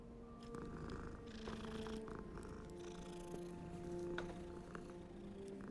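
A cat in the video game Hogwarts Legacy purrs close and steady, with a soft ambient game background and no talk.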